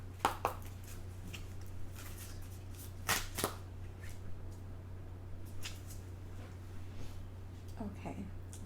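Tarot cards shuffled by hand during a card reading, producing a few quick soft riffling bursts and light taps, faint and close, under a steady low electrical hum with occasional quiet speech.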